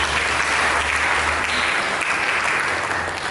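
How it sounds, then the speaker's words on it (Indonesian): A church congregation claps together during a sermon, dense sustained applause that stays loud and even throughout with no voices over it. "Mari kita berikan tepuk tangan."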